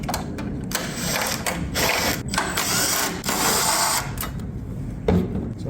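A ratchet clicks steadily as it loosens bolts and nuts on the battery cover of a Toyota Sienna Hybrid, a busy close-up run of rapid metallic ratcheting with short pauses over nearly six seconds.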